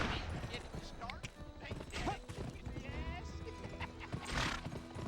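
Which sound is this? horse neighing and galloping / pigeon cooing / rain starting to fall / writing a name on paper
horse neighing and galloping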